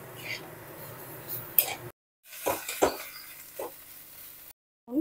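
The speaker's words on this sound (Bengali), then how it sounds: "সমস্ত উপকরণ ফুলকপির সাথে ভালো করে ভেজে ভেজে নেব" Cauliflower fries in a pan with salt, sugar and spices while being stirred, giving irregular scraping and clattering strokes of a spatula against metal with a soft sizzle beneath and brief silent gaps.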